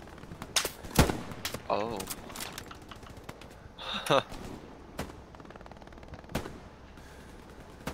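Gunfire in the video game Escape from Tarkov, with scattered sharp shots and short bursts popping through the stretch while people talk over it.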